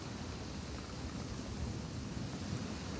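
Heavy rain pours down steadily in a dense, even downpour with a low rumble beneath, constant and close throughout with no voices.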